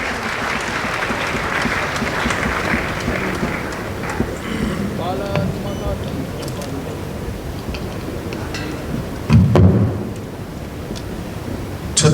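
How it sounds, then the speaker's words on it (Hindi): An audience applauds to welcome Amit Shah at a Chhattisgarh event, a crackling wash of clapping with a voice over it partway and a brief loud thump near the end. "तालियों की करतल ध्वनि से हम स्वागत करते हैं माननीय श्री अमित शाह जी का।"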